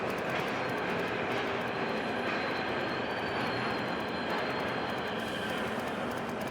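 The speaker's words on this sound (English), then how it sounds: "Ooh, train." Steady, loud rumble of a train in the video game Rogue Trader, a continuous rolling roar with faint high squeals, sustained and close with no breaks.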